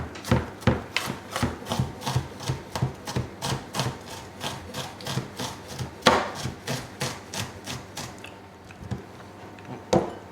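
A knife chops an onion very finely on a board in quick, steady, close taps that run for about ten seconds, with no talking.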